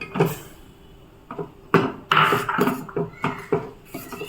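A utensil mixes rice flour dough in a metal pan for jaggery kudumulu, giving close, intermittent clanks, knocks and scrapes in uneven bursts.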